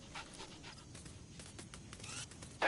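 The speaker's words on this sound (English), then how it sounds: "That wild dog pup." A wild dog pup in a military stealth game pants in quick, soft breaths at close range over a low ambient hum, ending in a brief louder burst.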